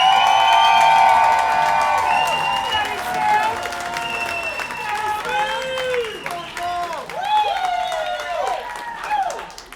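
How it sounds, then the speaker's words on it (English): An audience at a stand-up comedy class show in Sarasota applauds and cheers for a comedian taking the stage, dense steady clapping with whoops that thins out over about ten seconds, with some voices in it. "How about a big round of applause for Samson Jones?"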